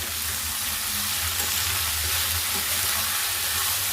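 Ivy gourd coconut fry sizzles steadily in a pan while being stirred, a close, dense crackle of frying with faint scraping underneath and no talking.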